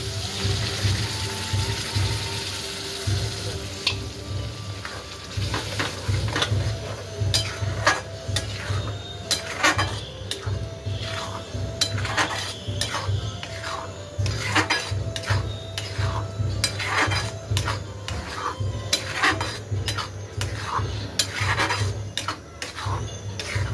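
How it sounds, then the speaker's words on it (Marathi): Spinach puree going into a pan of frying paneer masala, heard as steady clinking and scraping of a spoon against the pan. The sounds come in irregular bursts over a low background hum, close by and with no voices. "आता आपली पालकची गिरवी टाकून घेऊया।"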